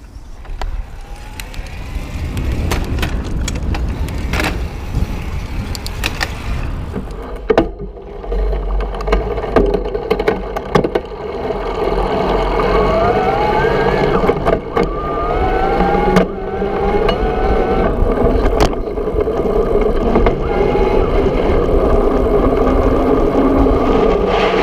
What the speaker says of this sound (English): I might do the shift test real quick and show the motor